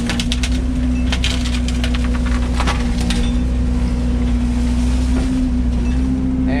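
An excavator engine drones loudly and steadily while the machine pushes against and breaks trees, with scattered cracking and crunching of wood over the constant mechanical hum.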